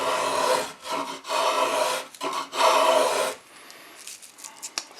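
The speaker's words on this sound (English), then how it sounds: "There you see, you get a decent shaving off of there, and it starts to clean it up." A hand tool takes shavings off wood for a painted chair build, giving several rough rasping strokes in bursts with short gaps, close and fairly loud, then quieter scraping and handling.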